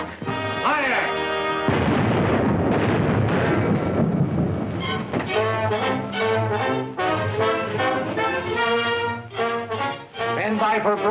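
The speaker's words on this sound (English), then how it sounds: "Stand by for broadside. Stand by! A broadside!" Warship broadside cannon fire booms in a 1936 war film, heavy rumbling blasts mixed with a dramatic orchestral score and shouted voices, loud and continuous.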